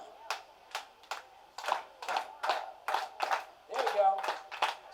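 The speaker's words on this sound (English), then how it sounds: "We could use some hand claps on this song." An audience at a music festival claps along in a steady beat, with a steady rhythmic run of crisp hand claps that builds slightly toward the end.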